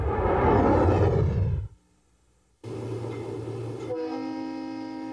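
A loud rumbling Conrail train roars past on the rails between River Rouge and Monroe, cuts to near silence, then rumbling returns with a sustained horn-like tone.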